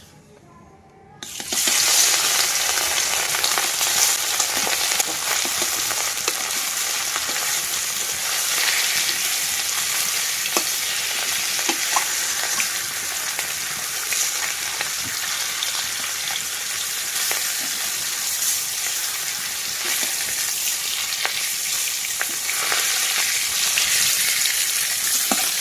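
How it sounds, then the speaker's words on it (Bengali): Snakehead fish frying in hot oil in a wok over an outdoor cooking fire in the Sundarbans, a loud, steady, dense sizzle that erupts suddenly and keeps going without a break. "তেল গরম হয়ে গেছে বন্ধুরা, মাছগুলো ভেজে নেব।"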